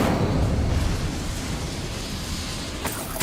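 A fiery Incendio spell cast in Hogwarts Legacy, a steady roaring whoosh of flame that holds loud for about three seconds before a brief crackling flare near the end.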